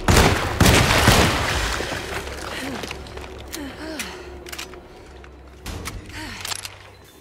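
Gunfire in the Alone in the Dark video game, a sharp loud burst at the start followed by a few fainter shots, with a voice reacting over it.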